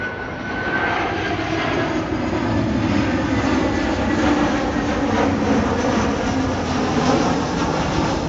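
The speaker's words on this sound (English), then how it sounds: "And EasyJet comes over." EasyJet airliner passing overhead near a railway station at Heald Green, a loud, sustained broadband jet roar that swells and holds steady for several seconds with no talking.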